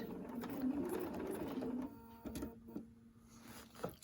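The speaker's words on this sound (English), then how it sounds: "So needle down, needle up. And secure those stitches." A sewing machine stitches a short burst in a quiet room while piecing a triangle with a ruler, a close whirring run that stops after about two seconds, followed by faint clicks and handling.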